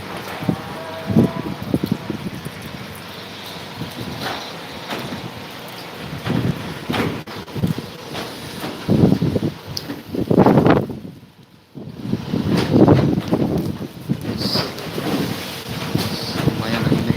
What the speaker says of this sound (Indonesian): Lumayan anginnya kencang sekali.